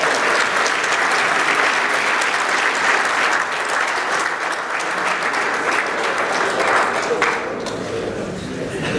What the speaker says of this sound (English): Please join me in a warm round of applause for the seniors in the men's golf.